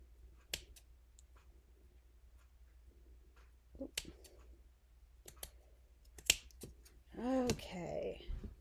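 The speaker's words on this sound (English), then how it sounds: "Let me cut off a piece and see" Scissors snip a piece of lace trim in a quiet craft setting: several sharp, isolated clicks spaced a second or more apart, with a brief voice-like sound near the end.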